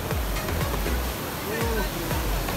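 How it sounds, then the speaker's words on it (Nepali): Motorcycle, a CFMOTO 250 NK, crossing a river stream while offroading in Nepal; continuous rushing, splashing water dominates with low rumbling undertones, and voices talk over it throughout. "खोला तरिँदैछ पुरै तरियो"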